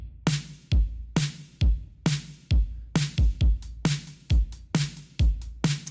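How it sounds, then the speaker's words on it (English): Snare drum sample with a noticeable reverb tail playing a repeating backbeat alongside deep kick thumps in a pop-style beat, sharp bright cracks decaying into wash, steady rhythm, no voices. "Came in with a snare."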